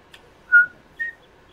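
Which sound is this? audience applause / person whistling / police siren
person whistling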